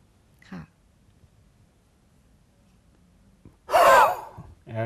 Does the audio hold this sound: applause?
no